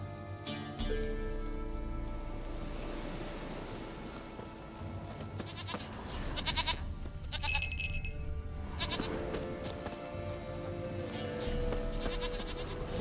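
Goat bleats in The Witcher 3 video game over a soft rainy ambience and game music, a few wavering cries mid-range in loudness, with no talking.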